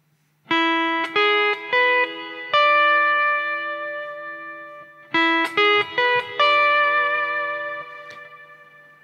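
Hawaiian guitar playing a slow melodic intro starting from the open first string, clear sustained plucked notes ringing in phrases and decaying between them, heard alone without talk.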